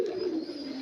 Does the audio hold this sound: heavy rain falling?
no